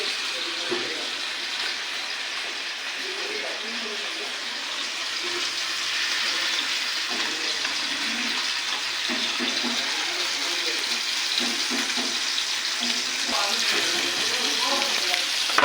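Marinated fish frying in oil on a flat griddle pan, a steady broad sizzle with light crackles running throughout, fairly close and even in level, with faint voices in the background.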